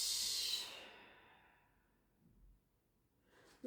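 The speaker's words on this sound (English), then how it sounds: "Take another full deep breath in" A deep breath let out slowly during a yoga flow, a breathy exhale that fades over about a second into near silence, with a faint stir at the end.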